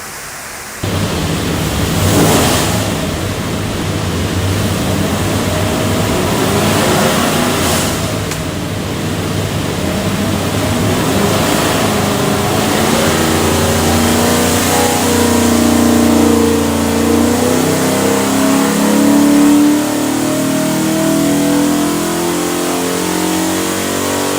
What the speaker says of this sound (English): We'll go in there and make a run, see what it does.